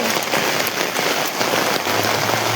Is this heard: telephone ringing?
no